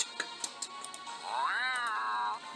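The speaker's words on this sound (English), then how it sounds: "That was a cat." A cat gives one drawn-out, wavering meow at close range, preceded by a few faint clicks and taps; no one speaks.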